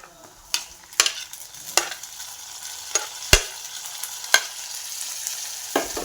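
Onions frying in a pan while a utensil stirs them, with a steady soft sizzle broken by sharp scraping taps every second or so, no voices.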